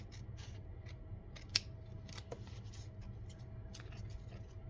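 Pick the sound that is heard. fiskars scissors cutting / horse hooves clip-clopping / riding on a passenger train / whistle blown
fiskars scissors cutting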